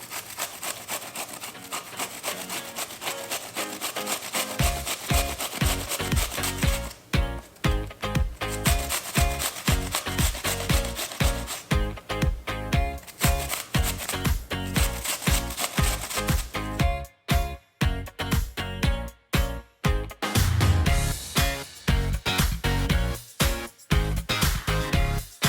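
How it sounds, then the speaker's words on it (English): Food is grated straight into a bowl in quick, rhythmic rasping strokes that are close and loud, with a few brief pauses between runs of strokes. "literally just grate it straight into the bowl"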